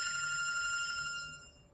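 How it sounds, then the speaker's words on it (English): A telephone rings with a bright, steady electronic tone that sustains for about a second and then fades out, heard alone without any talking. "Like answer the phone, dude. All right, anyways, my phone's blowing up now."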